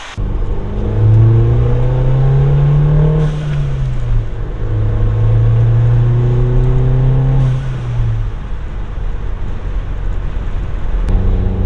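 A Mini, newly fitted with a cheap aftermarket intercooler, is driven on a test run, its engine rising loudly through two gear pulls with a clear revving whine, then dropping back between them, with no talk.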